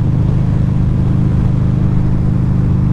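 A 2012 Harley-Davidson V-Rod Muscle motorcycle cruising along, its engine giving a steady, loud, low rumble with road and wind noise that holds constant throughout, no voices.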